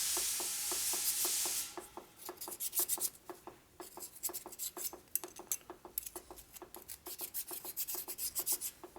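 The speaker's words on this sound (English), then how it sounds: "Take the same file and see if there's any high spots on the ring." Metal file scraping a piston ring from a 1957 Harley panhead engine to clear high spots, with a harsh hiss at first and then a run of short, regular rasping strokes close up.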